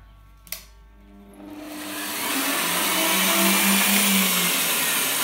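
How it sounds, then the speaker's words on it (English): A sharp click, then a power tool winds up into a loud, sustained grinding whine as it cuts through angle iron for a Land Rover Discovery 3 roof rack, close by. "You always cut a angle iron like this."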